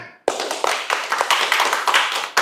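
An audience at a religious lecture bursts into applause right after a brief moment of speech, a close, lively crowd clapping with distinct individual claps standing out in a dense, steady patter.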